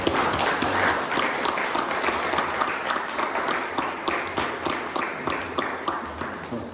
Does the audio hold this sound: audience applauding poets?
yes